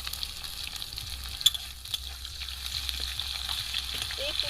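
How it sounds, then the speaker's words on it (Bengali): Chopped onion dropped into hot oil with tempering spices and ginger, frying into a steady, fairly faint sizzle with a little stirring, with no voices. "ফড়নটা ফুটে গেছে এবার পেঁয়াজের কুচি দিয়ে দিচ্ছি"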